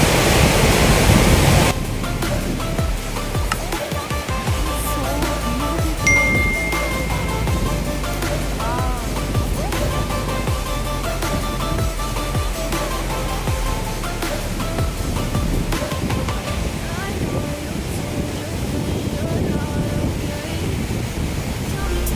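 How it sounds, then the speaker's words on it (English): Hebbe Falls in Chikmagalur roars in a steady, broadband wash of falling water that holds for the whole stretch, with music audible over it. "So this is the waterfall."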